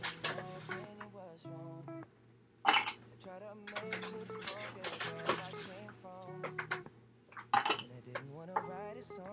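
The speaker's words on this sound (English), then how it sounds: "I'm gonna take our spoon. I'm gonna scoop all the mangoes out" A spoon scraping and clinking against a bowl and dish while mangoes and berries are scooped out for a smoothie, in short irregular knocks and rattles that are loud and close.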